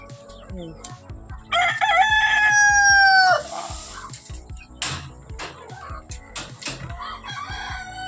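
A rooster on a poultry farm lets out one loud, clear crow, surrounded by scattered clucking and soft clatter, with a voice talking faintly in the background.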